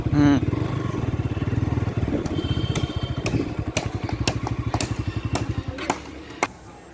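A motorcycle engine idles close by at a stadium fairground with a rapid, even putter and occasional clicks, while voices speak briefly.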